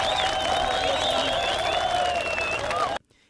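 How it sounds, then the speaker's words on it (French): Dense crowd gathered outdoors to welcome a provincial governor near Mahagi, a continuous loud mass of voices, shouting and cheering with possible clapping, sustained throughout before cutting off abruptly. "le gouverneur se fait arrêter par une foule compacte venue l'accueillir"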